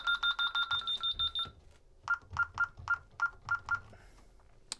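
A Vista alarm system panel reporting faults beeps in a rapid run of evenly spaced high electronic tones, pauses briefly, then sounds a second, slightly slower series of beeps, close and loud.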